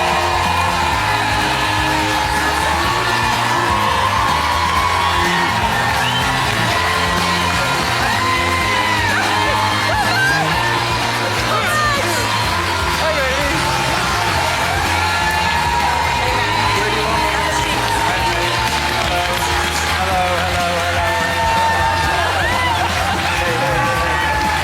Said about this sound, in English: We've never had an applause like this, Robbie.